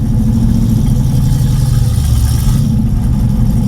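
A rough, rumbling Corvette engine runs loudly and steadily up close, with a deep throaty idle and a slight shift in tone near the end.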